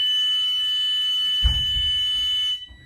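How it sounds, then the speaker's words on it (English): A steady, high-pitched electronic buzzer on a bus rear door sounds continuously, interrupted by a loud thump and rattle of the door, then cuts off. "I want to make sure the buzzer sounds when open from the inside."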